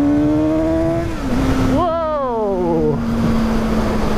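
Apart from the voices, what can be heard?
Suzuki GSX-S 750 motorcycle engine revving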